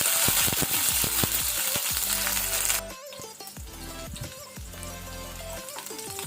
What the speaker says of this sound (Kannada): ಹಸಿಮೆಣಸು ಸ್ವಲ್ಪ ಫ್ರೈ ಆಗಲಿ ಲೋ ಫ್ಲೇಮಲ್ಲಿ